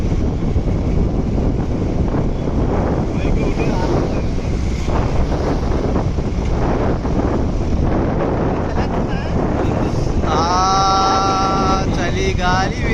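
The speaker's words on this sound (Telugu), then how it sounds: "చలి గాలి వేస్తుంది" Cold monsoon wind at Khandala Ghat on the ghat road near Lonavala, Maharashtra, roars steadily and loudly across the microphone with constant buffeting, and a brief horn-like tone rises near the end.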